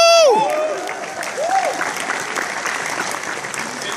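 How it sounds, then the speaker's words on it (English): Crowd applause and cheering at a Comic Con video game panel, starting loud and settling into steady clapping, with voices calling out and gliding whistle-like tones early on. "To hear the applause that you've given, so thank you"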